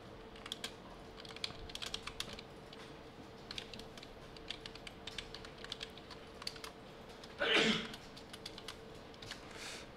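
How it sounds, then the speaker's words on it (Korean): A computer keyboard with Ctrl+F9 pressed again and again while running a database insert, light irregular clicks close by, plus one louder clatter near the end; no talk. "컨트롤 F9 계속 누르고 있습니다"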